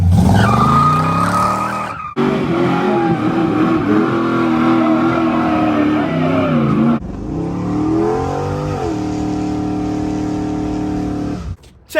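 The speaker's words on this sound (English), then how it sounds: "Check out these LS swap old school car burnouts with me." Old-school cars with LS3 engine swaps roar and rev hard as tires squeal and skid in long, loud stretches, with abrupt changes between several burnouts.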